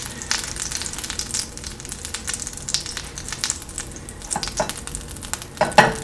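Butter sizzles and crackles in a frying pan, a dense steady hiss peppered with irregular pops and spits, close and fairly loud with no talking.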